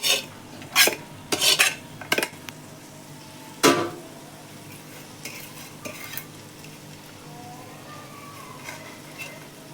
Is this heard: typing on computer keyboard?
no